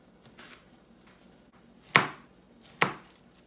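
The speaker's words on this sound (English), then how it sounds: "I am going to make the scallions. Separating whites from greens." Two sharp knife chops through scallions on a cutting board, a second or so apart, after a quiet stretch of faint rustling.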